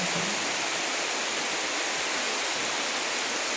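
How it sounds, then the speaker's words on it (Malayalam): Heavy morning rain pours down in a dense, unbroken roar that stays loud and constant from start to finish, with no voices. "ഇന്ന് രാവിലെ മഴയാണ് അപ്പോൾ വലിയ മഴയാണ്"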